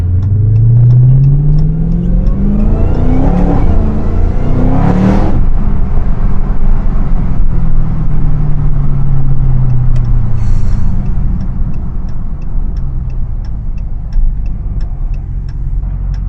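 A supercharged 717 hp Hellcat accelerates hard, its engine note rising in pitch through gear pulls with exhaust roar and supercharger whine, loud and close from inside the car.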